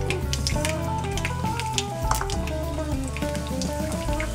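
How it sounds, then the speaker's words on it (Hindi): Mustard seeds and cumin hit hot oil in a pan for upma, giving a close, steady sizzle with scattered light pops and crackles, no talking. "अब इसमें ऑयल, उसी सेम ऑयल में डालेंगे थोड़ी सी राई, थोड़ा सा जीरा"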